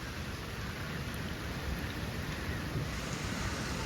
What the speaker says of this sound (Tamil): திரும்ப மழை பெய்ய தொடங்கிட்டுது.